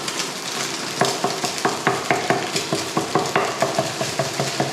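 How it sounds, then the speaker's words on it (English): Eggs for egg fried rice sizzle loudly in a hot pan while a spatula breaks them up, giving a fast, regular series of sharp scraping taps over a continuous frying hiss. "Once you see the eggs, it's a bit cooked, you can start to break it up"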